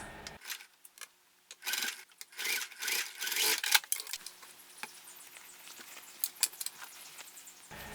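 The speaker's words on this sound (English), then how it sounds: "I'm sewing the side gusset for the pocket onto the pocket part" A sewing machine stitches a side gusset onto a backpack pocket in short bursts of rapid mechanical ticking, separated by pauses and lighter handling and rubbing sounds.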